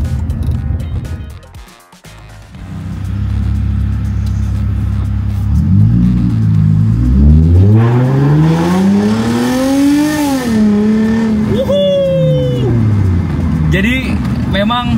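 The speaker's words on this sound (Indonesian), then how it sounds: "kita nikmatin dulu aja perjalanannya tanpa gua banyak bacot, karena mobil ini suaranya enak banget." A car engine on an Indonesian toll road, revving loud and close with rising and falling pitch as it accelerates through the gears, a steady drone throughout and a brief dip near the start.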